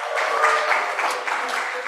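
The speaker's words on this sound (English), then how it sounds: "Once again, give a big round of applause." A conference audience claps steadily in a brief, dense burst of applause after a presentation, filling the room at moderate loudness.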